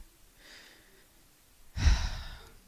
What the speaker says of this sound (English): I am taking the breath now